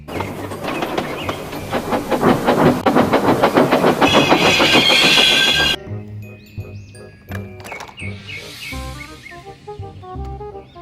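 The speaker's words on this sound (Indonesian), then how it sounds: "Kereta Thomas." A toy Thomas train runs with a busy, rattling mechanical clatter and whirring motor, loud and steady at first, then shifting to lighter clicks and rattles after an abrupt cut.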